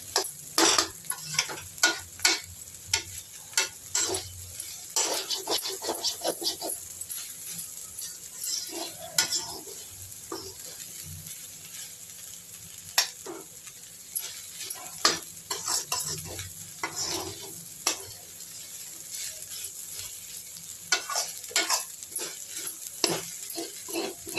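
Lotus stem stir-fry stirred and sautéed in a pan, heard as a continuous sizzle broken by repeated sharp scrapes and taps of the spatula against the pan, close up and with no speech.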